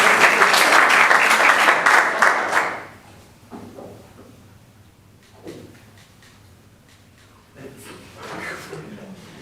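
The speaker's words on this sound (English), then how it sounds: "let's go ahead and give Easton a round of applause, too." An audience at a school board business meeting applauds loudly for about three seconds, the clapping then dying away into a quiet room with scattered faint shuffles and brief murmurs.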